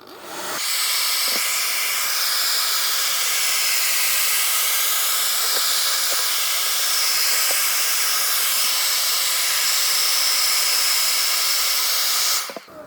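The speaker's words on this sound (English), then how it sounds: "So you need the hairdryer to melt the glue on the sides." A hairdryer blows steadily for about twelve seconds, heating an iPhone 11 to soften the glue along its sides. It makes a loud, broad, even hiss that starts and stops sharply, with no talking over it.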